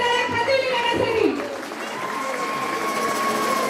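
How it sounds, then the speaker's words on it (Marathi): Loud applause fills a school cultural programme and prize-giving ceremony in 2020, a dense steady clatter of many clapping hands from the audience, mixed with tonal music or voice sounds early on. "जोरदार टाळ्या"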